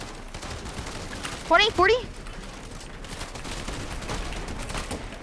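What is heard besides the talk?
team spraying gunfire in a video game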